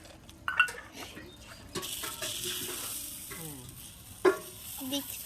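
Broadband sizzling of chitol pitha batter frying in hot oil in a kadai runs steadily through, with a sharp clatter near the end and a few soft kitchen knocks.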